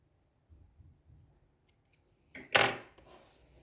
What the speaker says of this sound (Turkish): fazla ipimi keseyim Bunu da keselim